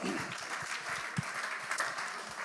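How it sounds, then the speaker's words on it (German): Short burst of applause from a church congregation, steady mid-level clapping with a few louder individual claps and faint voices mixed in. "Applaus an euch."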